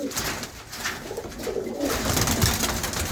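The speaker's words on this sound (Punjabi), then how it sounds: "ਬਹੁਤ ਤਰ੍ਹਾਂ ਦੇ ਕਬੂਤਰ ਆ ਵਿੱਚ" Malwai pigeons in a loft in England coo softly and continuously in low, throaty murmurs, close by amid rustling and fluttering, with no talking.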